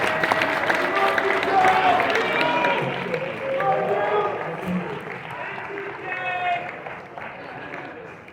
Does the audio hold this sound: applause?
yes